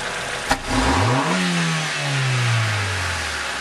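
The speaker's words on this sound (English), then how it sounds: "So of course, when you crack open the throttle plate, it goes lean immediately." A car engine revs as the throttle plate is cracked open during an oxygen sensor check, with a sharp click, then rising pitch that peaks and slowly winds back down toward idle, loud and close with no talk.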